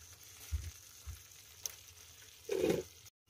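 Spice masala sizzles in a covered pan while cooking an egg dish, a soft steady fry with a brief louder burst of sizzling near the end before cutting to silence.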